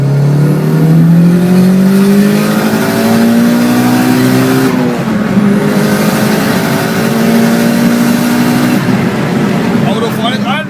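Car engine at full throttle, loud and close, pitch climbing steadily through the gears with a brief dip at each shift, continuous for about eleven seconds.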